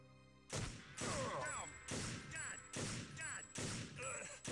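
Gunshots in a TimeSplitters 2 Wild West mission, loud sharp cracks fired in a steady rhythm of about five shots over a few seconds, each followed by a short ringing tail.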